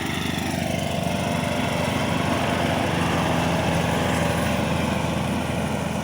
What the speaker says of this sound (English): The mower itself is a lot quieter.